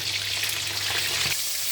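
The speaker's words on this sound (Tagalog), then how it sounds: "At habang nagpiprito tayo dyan" Oil crackles and sizzles steadily in a hot pan for sautéing curry leaves and onion, close and constant, with a soft stir or shift near the end.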